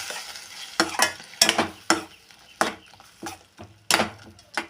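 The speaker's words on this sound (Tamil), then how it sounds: "இது எல்லாமே நல்லா கலக்கி விட்டுருங்க சார்" Tomato and ginger-garlic paste are stirred and sautéed in a pan for a soybean curry: a spoon scrapes and knocks in irregular strokes over a soft sizzle, close by, with no one talking.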